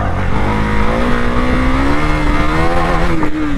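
A KTM Duke 390 motorcycle engine revs loudly and continuously during a wheelie, its tone climbing and wavering as the throttle is held, close up and alone.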